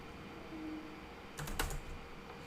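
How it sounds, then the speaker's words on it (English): Typing on a computer keyboard, a short quick cluster of soft key clicks heard close up in a quiet room. "simply go to search and then type alignment"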